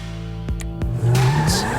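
Car tires squealing in the GTA 5 video game, a rising skid that swells after a couple of sharp game-engine knocks and holds loud over a steady engine hum, with no talk.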